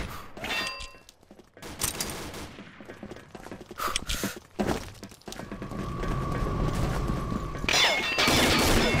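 Gunfire in the online shooter Combat Arms: bursts and clattering mechanical weapon sounds in fast, irregular volleys, loud and close, with a steady tone near the end.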